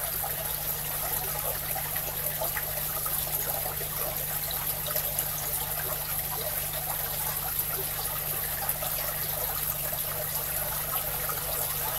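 Water steadily fills a divided aquarium during a leak test between its compartments, giving a continuous, even trickling and pouring rush that stays at one level throughout, with no talking.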